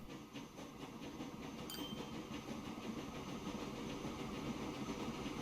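Passenger train in the Transport Fever 2 video game, a steady moderate rumble of rolling wheels with faint rhythmic clatter and a brief metallic clink, continuous throughout.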